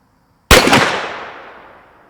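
A single sharp blast from a 50 caliber hand cannon fired offhand, loud and sudden after a moment of quiet, followed by a long ringing decay and echo tailing off.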